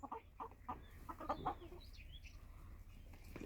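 Farm hens feeding on wheat and maize grain in a rural yard, giving a few short nearby clucks in the first second and a half, then low scattered calls over a steady background hum.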